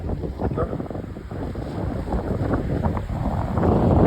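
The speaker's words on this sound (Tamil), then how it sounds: "இப்போ இந்த காற்று கொஞ்சம் கூட அடிக்க தொடங்கிட்டது" Strong, steady wind gusting across the microphone beside a flooded dam with its gates fully open in Jaffna, a dense continuous roar building slightly louder toward the end, with no voices.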